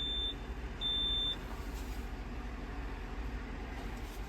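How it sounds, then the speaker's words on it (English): Two short electronic beeps sound near the start, the second longer, over a quiet low rumble; nothing follows but faint background hum. "What's it beeping at me for now?"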